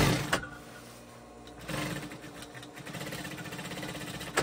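An older but barely used sewing machine stitching fabric for patching, whirring steadily at low volume with a brief pause and uneven pulsing, no talk over it.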